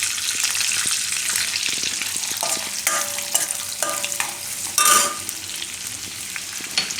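Garlic fries in melted butter and oil, a bright, busy sizzle up close, with spoon scrapes and clinks against the pan and a brief louder burst of spitting.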